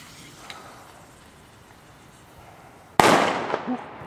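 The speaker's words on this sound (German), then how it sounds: "Zünd den Knaller." Small firecrackers from a Knallmatte-Mini set off outdoors the day after New Year's Eve: after a quiet wait, a sudden sharp bang sets off a loud burst of crackling pops.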